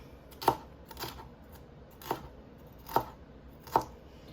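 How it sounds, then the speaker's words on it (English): A knife slices lengthwise through peppers on a cutting board, giving five sharp, separate chops spaced unevenly over a few seconds, close and clear with quiet between strokes and no talk. "But again, cut them lengthwise."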